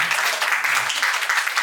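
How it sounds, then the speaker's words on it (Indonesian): Brief applause from the audience at a theatre incubation discussion in Yogyakarta, a steady even patter of many hands that fills the whole moment. "tepuk tangan dulu kawan-kawan"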